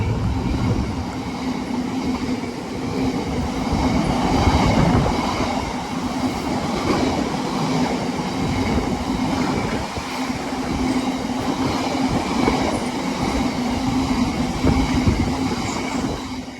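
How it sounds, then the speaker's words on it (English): A cross-country passenger train rumbles steadily through a station on the Midland Main Line at close range, wheels clattering over the rails with a continuous heavy roar and no voices. "about to pass through the station. It's going to be a cross-country service"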